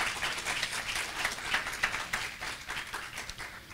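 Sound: church congregation clapping hands

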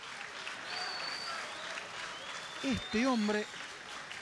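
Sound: boxing crowd applauding fighter Chancalay

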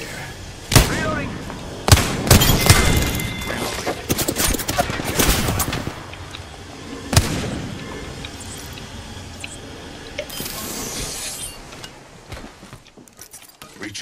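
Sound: gunfire in the video game Apex Legends

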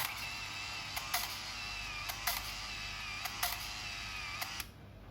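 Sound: film camera shutter release and advance

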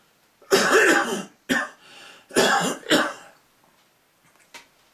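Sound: cough

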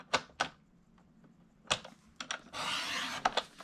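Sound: paper trimmer cutting craft paper

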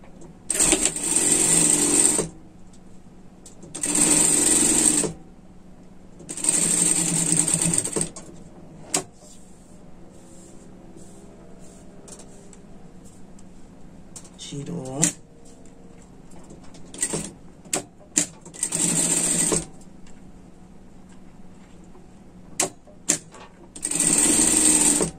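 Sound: sewing machine topstitching a seam

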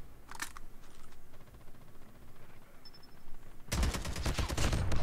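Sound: gunfire in a first-person shooter video game

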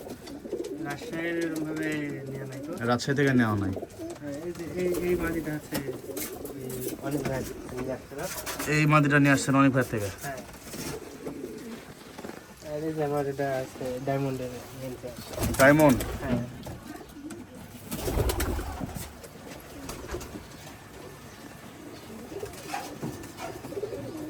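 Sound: pigeons cooing in loft

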